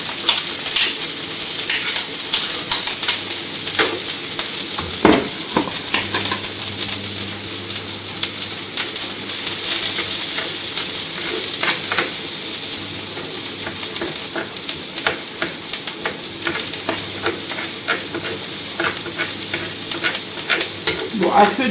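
Half an onion fries in a pan over lowered heat, giving a steady, loud sizzle with continuous crackle and occasional stirring scrapes, with no talk.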